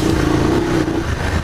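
A BMW F 750 GS motorcycle engine pulls hard at full throttle climbing an off-road hill, a loud, dense, vibrating drone that holds steady then wavers briefly, close up with no talking.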